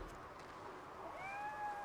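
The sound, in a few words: cat meowing in video game RoboCop: Rogue City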